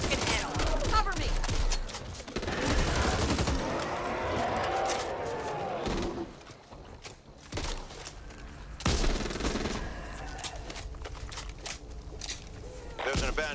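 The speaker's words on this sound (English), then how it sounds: "Machine gun. Now blow his fucking head off." Machine gun fire in the video game Back 4 Blood, heavy bursts of rapid shots over a dense, loud combat mix, with voices talking in between and over the gunfire.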